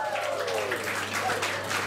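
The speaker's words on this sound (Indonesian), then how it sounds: "Beri tepukan." Audience applause at an intimate music showcase concert: a steady wash of clapping that fills the whole moment at a moderate, even level, with no voices over it.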